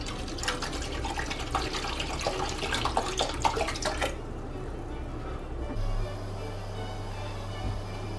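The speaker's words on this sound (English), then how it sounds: "We're adding 1-to-1 parts water and green tea," Water and green tea are poured in equal parts for instant noodles, making a steady splashing pour for about four seconds before it stops and gives way to a low hum.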